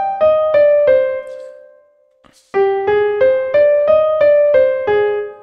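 An originally composed music piece played back from Reaper, with a clean synthesized tone sounding a melodic run of evenly spaced decaying notes, a brief pause, then another phrase.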